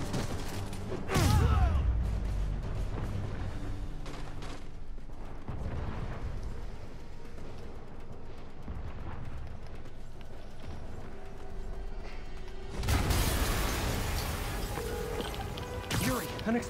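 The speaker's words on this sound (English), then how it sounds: "an explosion just... I saw it." A loud explosion bursts out in the Marvel's Spider-Man video game, with a heavy blast early on and another later, over a steady rumble of game ambience and music, with voices speaking.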